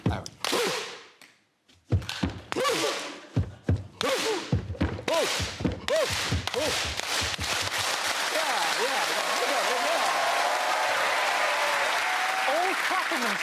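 A comedy panel show's studio audience clapping: a few sharp separate claps at first, then swelling into loud, sustained, dense applause with voices mixed in.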